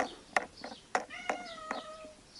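A cat meows several times, short repeated calls followed by a longer drawn-out meow, close by and fairly quiet.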